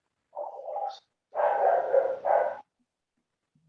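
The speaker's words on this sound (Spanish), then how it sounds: "Oye, un perrito por ahí." A small dog barks a few times in the near distance, short yelping bursts with brief pauses between them, heard alone during a quiet pause in a classroom.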